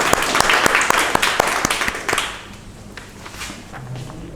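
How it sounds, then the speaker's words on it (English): Audience applause at a Toastmasters club meeting, a burst of many hands clapping with sharp individual claps near at hand, fairly loud, then thinning out and fading to scattered taps after about two seconds. "A round of applause for this great person."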